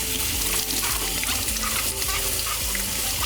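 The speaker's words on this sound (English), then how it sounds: "Now it's time to wash the apples." Tap water runs steadily in a sink as apples are rinsed, a constant close splashing wash with no pauses.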